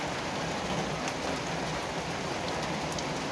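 Steady rain pours down on surfaces in a dense, continuous hiss, close and even throughout with no other sounds.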